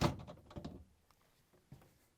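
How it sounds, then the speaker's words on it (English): A Frigidaire freezer basket is lifted and slid out, giving a loud scraping rattle at first, then a few lighter knocks and a final thunk, close by with no one talking. "Now I'm going to remove the freezer basket and lift up this side"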